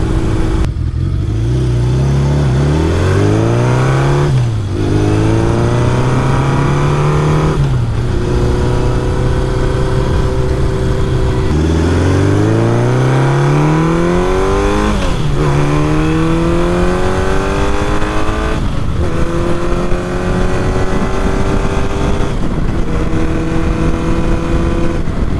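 Honda CB750 motorcycle engine running close by, revved repeatedly in rising sweeps that fall back to a rough idle between blips, loud and alone for the whole stretch.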